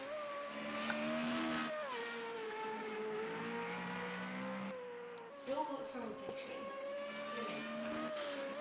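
Formula Renault race cars lap the Brno track in a racing sim, a steady droning engine note rising and falling in pitch as the cars run, fairly faint, with light commentary talk.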